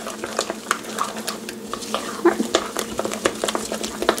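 A chicken and leek patty mixture with chili powder is mixed in a bowl, giving a wet, squelching stir with irregular clicks and taps of a utensil against the bowl.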